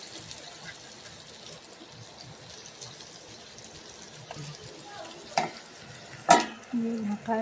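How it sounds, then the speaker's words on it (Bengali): Pieces of semolina batter fry in oil in a pan, a steady soft sizzle running throughout, with a couple of louder bursts of hiss and clatter near the end as more is added or stirred. "তাতে ছোটো ছোটো করে বড় সাইজে ভেজে নেব।"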